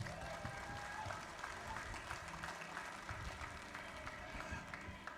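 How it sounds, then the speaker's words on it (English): An audience at a Hawaiian slack-key guitar festival applauds, a steady, moderately distant wash of many hands clapping that continues evenly throughout with no talk over it. "How about a nice round of applause for the Lau family, everybody?"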